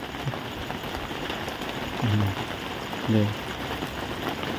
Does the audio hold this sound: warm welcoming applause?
no